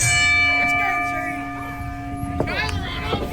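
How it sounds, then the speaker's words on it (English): At an ACW live wrestling show, a bell rings with long sustained ringing tones that slowly fade, while voices and crowd noise carry underneath. "Ring the bell."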